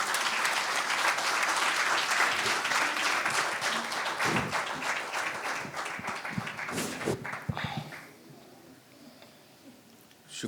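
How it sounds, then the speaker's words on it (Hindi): An audience at a mushaira poetry gathering in Raipur breaks into loud, sustained applause welcoming the poet Kunwar Ranjeet Chauhan, a dense clapping wash that gradually thins and fades toward the end. "तालियों से स्वागत कीजिए।"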